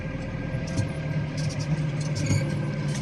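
A Massey Ferguson 148 tractor engine runs steadily at low revs while scraping a frozen farmyard behind the parlour at -10 Celsius, a constant mid-pitched diesel drone with a few small clanks and bumps over about three seconds.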